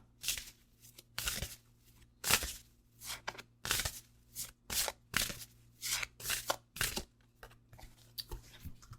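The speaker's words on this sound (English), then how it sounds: "let's pull a shadow and light card and see what we have" Tarot cards are shuffled and pulled from a deck in a series of crisp, rhythmic riffles and slaps, close and quiet with a faint steady hum underneath.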